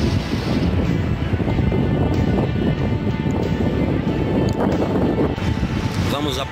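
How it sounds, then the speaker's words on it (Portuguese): Heavy wind buffeting a microphone at a quiet beach, a constant loud rumbling roar that smothers the surroundings, with faint surf and a voice partly buried beneath it. "se vai dar para ouvir o áudio por causa do barulho do vento"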